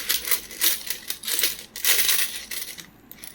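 Uncirculated 5 rupee coins, a batch of about a hundred fresh from the mint, pour and clink continuously against each other in a dense metallic jingle with a few brief lulls.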